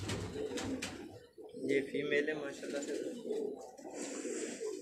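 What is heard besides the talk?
pigeons cooing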